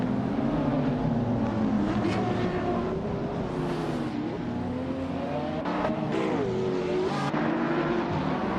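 Engine of a 2015 Lamborghini Aventador SVD race car in a racing video game, loud sustained high-revving roar with rising and falling pitch as it shifts gears, heard alone.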